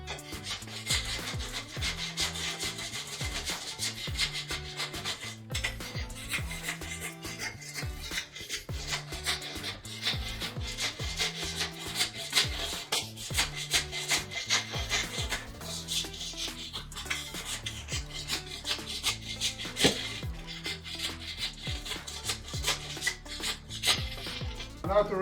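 An interchangeable-blade scraper is worked repeatedly across concrete to strip off old glue and dirt, giving a long run of close, gritty rasping strokes in an uneven rhythm with no talking.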